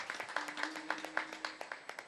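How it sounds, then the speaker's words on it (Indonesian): A group claps in an even, brisk rhythm during a traditional wayang culture talk show; the claps are evenly spaced, fairly faint and a little distant, with a faint steady tone underneath. "Tepuk tangan untuk Bhinneka Tunggal Ika"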